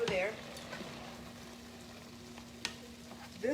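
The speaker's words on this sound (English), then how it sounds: "this one, I'm going to let stir fry a little over there" Food stir-fries in a pan during meal prep, giving a continuous low, close sizzle with a few faint clinks and scrapes of utensils.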